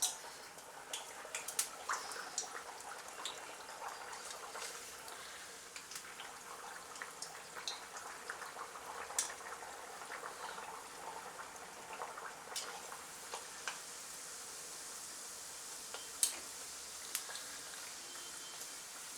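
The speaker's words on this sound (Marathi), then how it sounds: "मीडियम गॅसवरच आपल्याला तळायचं ह्याला" Pea puris frying in oil over a medium gas flame, a soft continuous bubbling and crackle with scattered pops, faint and steady throughout.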